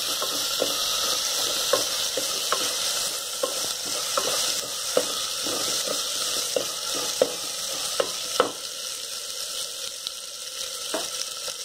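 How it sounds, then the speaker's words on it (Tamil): Onions fry in a pan for a Tamil bean and brinjal curry, a steady loud sizzle with repeated scraping stirs of the spoon throughout, no voices. "வெங்காயம் நல்லா வதங்கணும்."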